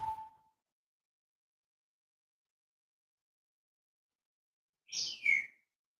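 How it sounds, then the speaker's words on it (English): A pet bird lets out a quick double chirp, bright and high, heard faintly from across a quiet room after a long silence. "You're going to hear my bird in the background"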